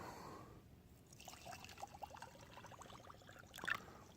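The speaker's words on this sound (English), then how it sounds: "add water" Water pours into a glass jar holding clay material, a faint, quiet trickle with gurgling bubbles building over a few seconds and ending in a brief splash.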